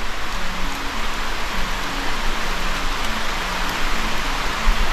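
Steady rain falls outside at the gate of a hidden site, a dense continuous hiss that stays loud and even throughout, with no voices.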